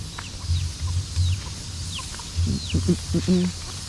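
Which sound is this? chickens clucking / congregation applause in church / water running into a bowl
chickens clucking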